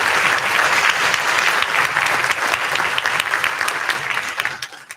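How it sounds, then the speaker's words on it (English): Audience applause for student orchestra performers at a school spring orchestra concert, a full, steady clapping from a crowd that holds for several seconds and then thins out toward the end. "go ahead and applaud their hard work and their effort"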